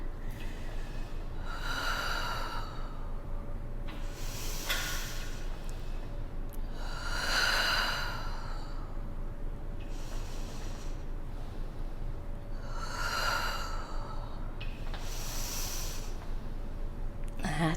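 Slow, strong breaths during a reformer Pilates exercise, four or five long airy exhales in a steady rhythm several seconds apart, close and prominent over a constant background hiss.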